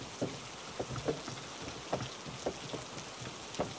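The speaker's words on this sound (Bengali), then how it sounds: "বৃষ্টির ঝমঝম আওয়াজ আর গরুর গাড়ির আওয়াজ আমার কানে আসতে লাগলো।" Heavy rain pours down on a night journey by bullock cart in a Bengali horror cartoon, a steady wash of rainfall with soft, regular knocks from the cart.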